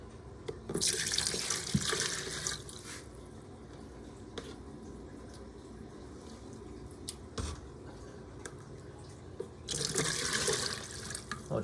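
A tap runs into water beside a ten-gallon aquarium being rescaped, with a steady close splashing stream that surges louder at the start and again near the end, softer in between, and no voices.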